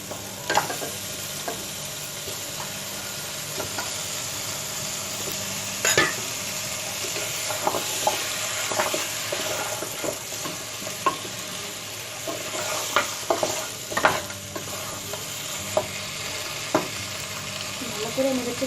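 Beef trotters for nihari fry in a spice masala, with a continuous sizzle and irregular scraping and clattering from a stirring spoon against the pot, close and moderately loud throughout.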